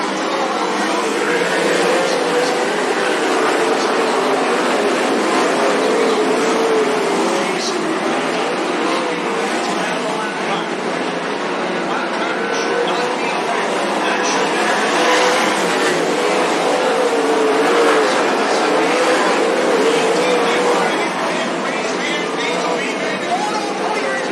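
Sprint cars of the American Sprint Car Series race at Cottage Grove Speedway, a loud continuous engine roar sweeping through a turn with tire squeal, while a race announcer talks over it throughout.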